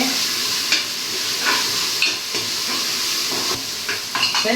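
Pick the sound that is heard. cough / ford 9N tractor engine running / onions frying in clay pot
onions frying in clay pot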